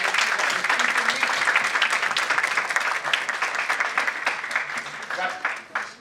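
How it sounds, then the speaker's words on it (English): An audience at a national client counselling competition bursts into dense, loud applause with a faint voice or two underneath, holding steady and then tapering off at the end. "But the volume of the applause today is not what I want."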